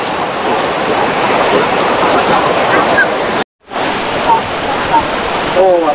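Devkund waterfall in monsoon, swollen with muddy water, roars as a loud, dense, unbroken rush of falling water, with a brief cut and a voice speaking over it near the end.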